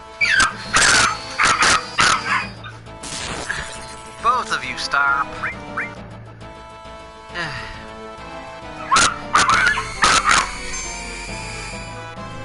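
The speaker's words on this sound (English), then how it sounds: "when the dog starts fighting the cat" A dog barks sharply in bursts and lets out whimpers and yips, with a person speaking briefly between the outbursts.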